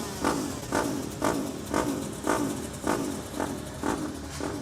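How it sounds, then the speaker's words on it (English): A two-stroke KTM mini bike engine warming up at a mini bike championship race, its sharp buzzing note pulsing in roughly regular blips about once a second, steady and fairly close with no talk over it. "Gareth Morrell there just warming that lovely wee 2-stroke wee KTM."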